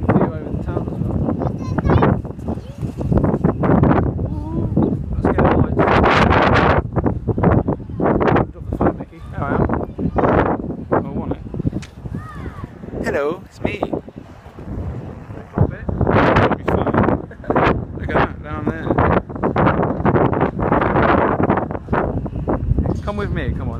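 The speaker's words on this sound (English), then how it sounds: "It's a bit windy up here. Very windy." Strong wind buffets the microphone on a high, exposed spot at Nottingham Castle, a loud, constant roar with gusts rising and falling, while people talk loudly over it throughout.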